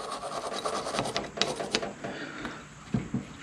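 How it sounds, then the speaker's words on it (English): A brush scrubs crusty deposits off an aluminum carburetor body from an old walk-behind leaf blower, making short rasping strokes close up in an uneven rhythm. "Scrub the crustier bits off"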